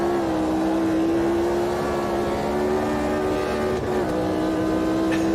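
A race car engine in Automobilista 2 at Silverstone drones at a steady high pitch, close and loud, with a brief shift in tone partway through as the car leans through a corner.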